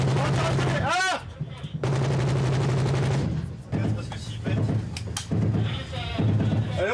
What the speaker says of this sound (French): À 400 mètres, le commandant décide d'ouvrir le feu.